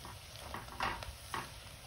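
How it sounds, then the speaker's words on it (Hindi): Cumin and fenugreek seeds fry in hot oil for an eggplant and potato curry, giving a soft steady sizzle with a few brief stirring scrapes, close and fairly quiet, no voices. "दोनों चीज़ें डाल के इसको थोड़ा सा फ्राई करते हैं।"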